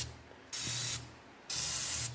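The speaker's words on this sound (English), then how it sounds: "what I do is spray a little carb cleaner in there" Two bursts of carb cleaner sprayed from an aerosol can into a car engine, each hissing loudly for about half a second, with a pause between them.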